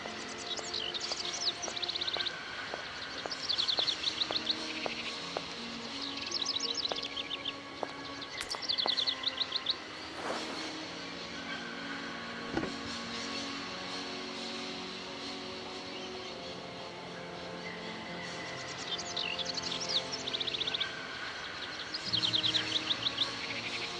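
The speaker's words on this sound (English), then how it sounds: "More importantly, there's birds there." Birds chirp in the Syberia video game, in a greenhouse built into a station: scattered bright tweets over a steady bed of tonal ambient music and background hum, moderately loud throughout.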